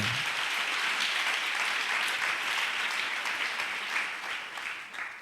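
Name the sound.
congregation applauding in church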